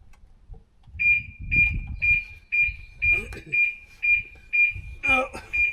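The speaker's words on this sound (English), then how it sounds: "Oh, alarm's going off again." Rapid repeating electronic beeps from the alarm of a BMW E46 M Sport coupe, evenly pulsed about twice per second, loud and close, with rustling and handling noises and a brief voice underneath.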